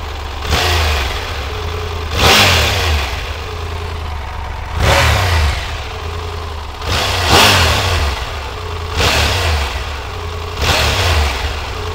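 A Triumph Tiger 1200 Rally Explorer three-cylinder motorcycle engine is blipped repeatedly, giving about five sharp, loud revs that rise quickly and fall back to idle between them. The revs are close and sound pointed and shrill, with no talk.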